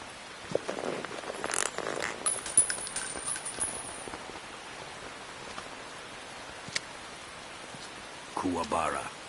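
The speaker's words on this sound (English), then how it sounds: "You can entertain me until the rain stops." Steady rain falls in the jungle setting of the video game Metal Gear Solid 3, a soft continuous hiss with a few brief clicks and rustles, and a short burst of louder activity near the end.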